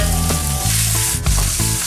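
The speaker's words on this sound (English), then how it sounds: "now we're going to take our meat and put it in the saute pan very carefully" Filet mignon sears in a hot, oiled sauté pan on the highest setting, giving a loud, close, continuous sizzle with brief crackling bursts as the meat settles.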